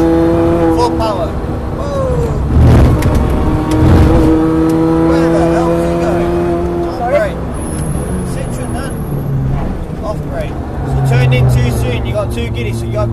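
Race car on the Snetterton circuit, its engine revving hard and climbing through gears with fluctuating pitch, loud and continuous, while a person talks over it in spurts.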